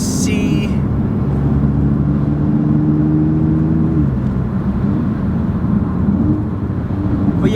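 An Audi on Magride DCC suspension drives along a bumpy road, with a steady engine drone and tyre rumble from inside the cabin and a brief whine that drops off midway.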